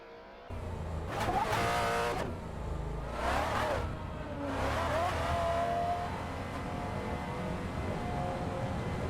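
Race cars in a video game race, a Nissan GT-R Nismo battling a McLaren 540C, roar past in loud revving bursts with rising and falling engine pitch, three main surges over a steady engine drone.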